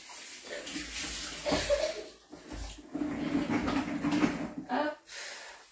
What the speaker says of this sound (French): Je vais rincer mon moule en attendant que vous répondiez à mon oubli.